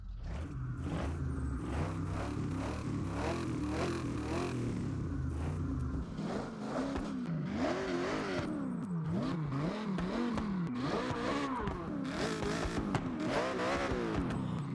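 A stock V8 engine in a Chevy Nova in the video game Forza Horizon 6 revs hard again and again, pitch climbing and falling in rapid sweeps, loud and close with a rough mechanical growl.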